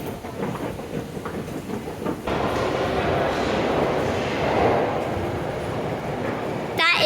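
An underground train pulls out of a London Tube platform between St Annes and West Brompton, a loud steady rumble and rising roar filling the station for several seconds.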